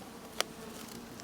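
Stingless melipona bees buzz faintly at a hive with an internal feeder, a soft, steady close hum with one brief tap, and no one talking.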